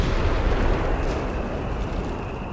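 Mortar pit explosion in the strategy game Company of Heroes 3, a loud dense rumbling blast with crackling debris that fills the whole moment and slowly tails off.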